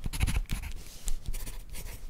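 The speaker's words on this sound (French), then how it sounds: "j'ai comme l'impression que le crayon à papier est le plus relaxant" Graphite pencil scratching over paper in soft, irregular strokes, close and quiet, with brief pauses between marks.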